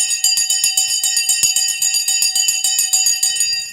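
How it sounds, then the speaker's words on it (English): Stock market opening bell ringing continuously, a rapid electric clanging with steady repeated strikes, loud and close, running alone without talk. "The bell has gone."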